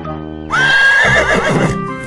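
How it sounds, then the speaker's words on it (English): A horse whinnies in a single loud, close call that rises sharply and trails off with a shaky, descending neigh, standing alone without talk. "Horse."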